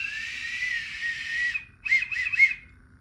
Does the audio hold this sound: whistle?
yes